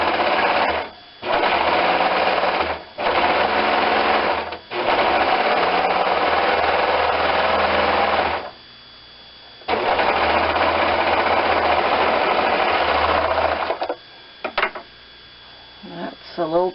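Sewing machine stitching down a long edge of foam for a collar, running in loud steady bursts of several seconds separated by short pauses, with a brief faint stretch near the end.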